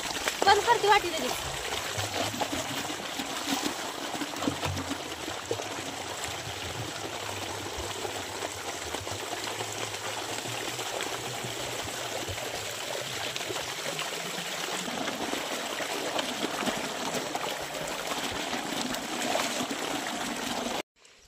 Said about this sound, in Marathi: पाणी भरून घेते आता